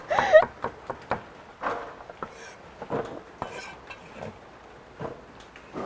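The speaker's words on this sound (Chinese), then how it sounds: "配菜切点辣椒和洋葱哈" A knife chopping chili peppers and onion on a board, irregular sharp knocks and clatters close by, with a few scattered kitchen clinks between the cuts.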